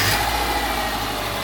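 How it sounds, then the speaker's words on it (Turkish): A Subaru Liberty 2.5 engine idles steadily and fairly loudly up close, a smooth continuous hum with no voices. "Aracımıza marş verip yağın segmanlarla kaynaşmasını sağlıyoruz."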